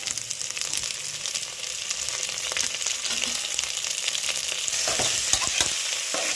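Cut tomatoes fry in a pan for chicken sambar with a loud, constant sizzle and crackle, stirred now and then so the spoon scrapes and clicks, with no talking.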